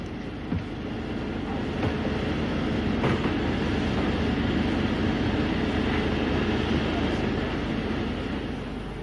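The Ghan passenger train standing at Marree in outback Australia, a steady low rumble and hum of the stabled train that holds throughout, with faint clanks and some voices underneath.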